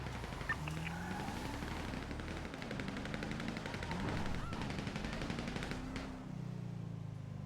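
Rapid bursts of automatic gunfire crackle through a GTA V roleplay shootout on NoPixel, dense and continuous for several seconds, mixed with engine drone and distant honks.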